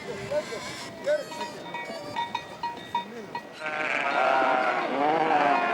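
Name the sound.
sheep and goats bleating at a well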